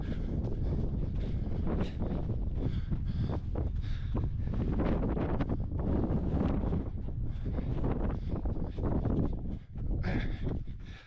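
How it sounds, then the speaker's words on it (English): Strong wind gusting over the open fells near Scafell in the Lake District, buffeting the microphone in a loud, continuous roar with rumbling low-end surges and brief lulls, no voices. "A little bit windier up here, but that's quite nice."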